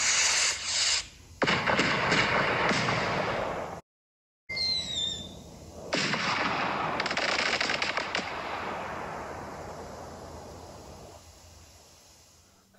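Fireworks burst and crackle in close, loud volleys, with a few sharp whistling rockets, a brief silent gap, then more crackling bursts that gradually fade away.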